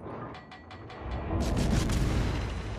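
Heavy naval guns fire from the cruiser Worcester in the naval battle game World of Warships: a rapid string of sharp reports, then a deep, rolling boom that swells and sustains for about two seconds.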